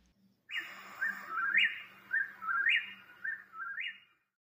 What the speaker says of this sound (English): A bird called, "Whip, whip, whippoorwill."